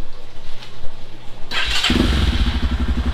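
A Kawasaki MX250 motorcycle with an upgraded battery starts on the first press: a brief starter whir, then the engine catches and settles into a steady, loud, close idle that runs alone to the end.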